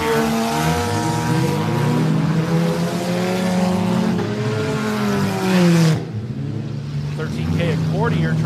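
Race cars, including a front-wheel-drive entry, roar through a track corner during a Metal Mayhem racing event, engines loud and close with rising and falling revs, fading sharply near the end while a commentator talks over them.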